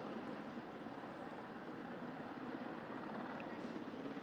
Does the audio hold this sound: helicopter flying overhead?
yes